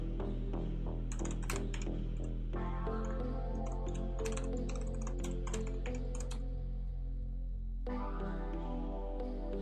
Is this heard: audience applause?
no